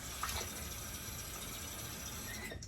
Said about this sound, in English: Turn on a little more hot water there.